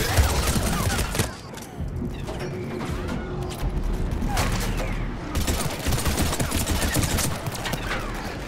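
Gunfire in the Mass Effect 3 video game, a busy battle mix of repeated shots, mechanical clatter and impacts running throughout, with a brief dip early on and faint voices in the background.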